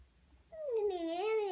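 A human voice mimics a cat's meow, with a short rising-and-falling call after a quiet start, close and fairly soft.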